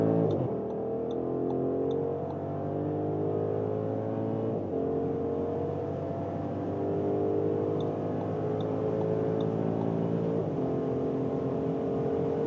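Audi SQ8 facelift engine pulling hard from 50 to 200 km/h on the German Autobahn, a steady, loud, continuous roar with rising harmonics through several gear changes and no talk.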